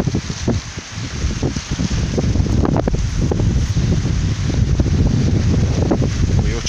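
Wind gusts across an open lakeside, a steady broadband rush with buffeting against the microphone that holds throughout, loud and close.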